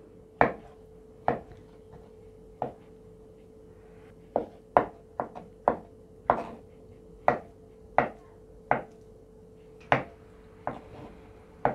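Boiled potatoes being cut into quarters with a knife on a board for a vinaigrette salad: about a dozen sharp, close chops at an uneven pace over a low steady hum.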